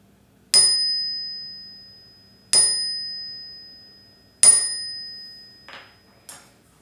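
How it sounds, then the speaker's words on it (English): A bright meditation bell is struck three times at even intervals, each tone ringing out and slowly fading, followed by two softer taps. "So I'm going to do 3 bells."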